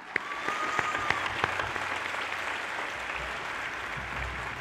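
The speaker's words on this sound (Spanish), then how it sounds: "Ese aplauso fuerte, por favor" An audience at the El Progreso sports awards ceremony in Lugo applauds, with sustained, even clapping from a large crowd heard from a distance and a few sharper claps standing out near the start.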